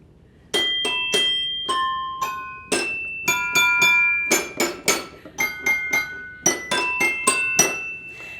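A celesta plays the Sugar Plum Fairy tune, bell-like struck tones ringing out one after another in a slow, slightly halting melody, each note chiming clearly and fading.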